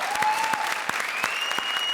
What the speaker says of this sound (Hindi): ठोको ताली अर्चना के नाम पे